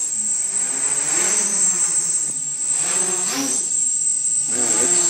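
The motors of a lightweight quadcopter of about 15 grams, with an Iconic-X frame and an OpenPilot CC flight controller, spin up on throttle. A close, loud, steady whine rises and falls in pitch with small surges.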